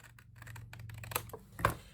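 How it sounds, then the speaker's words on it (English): Scissors trimming cardstock along scored lines, a few quiet crisp snips and clicks, the last one a bit louder, in a quiet room. "Bring in your scissors and we're just going to trim out."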